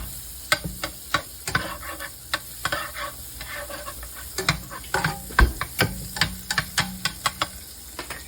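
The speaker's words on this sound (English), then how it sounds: "put a little bit of butter in your pan" Butter sizzles in a frying pan holding metal egg molds, a steady close hiss punctuated by sharp metallic taps and clicks in an irregular rhythm.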